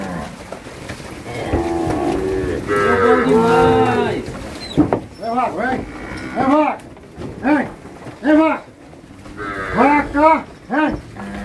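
Nelore cattle moo repeatedly and loudly up close at a vaccination corral, a long drawn-out bellow followed by a series of shorter rhythmic moos, with some talk in the background.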